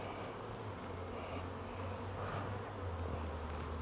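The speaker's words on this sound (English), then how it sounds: "have a look at that bee over there." Honey bees buzzing around a hive kept for raw honey, a steady close hum that continues without a break and carries no speech.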